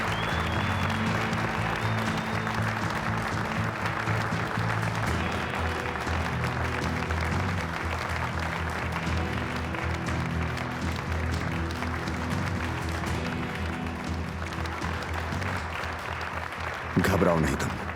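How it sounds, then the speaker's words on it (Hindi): A large crowd applauds on stage to welcome Ali Kozan, owner of the Kozan brand, with dense, steady clapping that holds at an even level throughout and rises in a brief louder burst near the end. "अब मैं कोजान ब्रांड के मालिक अली कोजान को तालियों की गूंज के साथ स्टेज पे दावत देता हूं।"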